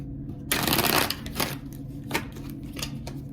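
Tarot cards being shuffled close up, a quick riffling flutter followed by a few softer slaps and rustles of the deck, with no talk.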